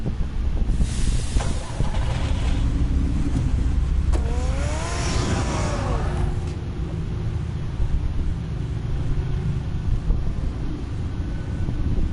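In a Batman Telltale video game scene, a car engine rumbles and revs, rising in pitch as the vehicle pulls away, over steady wind-like noise, with no speech heard.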